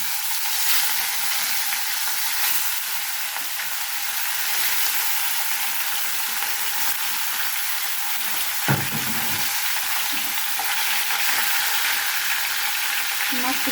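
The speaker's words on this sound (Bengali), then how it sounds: "মাছটিকে আমি ভালোভাবে লাল লাল করে ভেজে নিচ্ছি" Rui fish pieces rubbed with garlic fry in plenty of hot oil, a steady loud broadband sizzle close up that runs throughout with one brief clatter partway, no voices.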